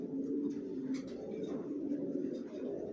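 Racing pigeons coo steadily in a loft, a continuous low throaty murmur from several birds close by, with a few brief higher calls above it.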